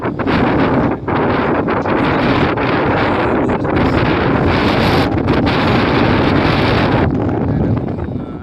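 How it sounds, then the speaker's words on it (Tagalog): Strong wind buffets the microphone in a loud, continuous roar with gusty surges throughout, no voices heard. "Lakas ng hangin"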